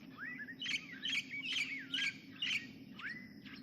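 Baby birds chirp from inside a nest in a tree, a cluster of high, repeated cheeping calls in quick bursts, faint over a low background hum.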